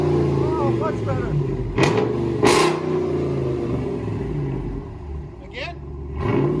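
A 2016 Ram 2500 HD's 6.4L HEMI V8, fitted with a Vibrant resonator, rumbles steadily up close with a few quick rev bursts while someone speaks over the engine.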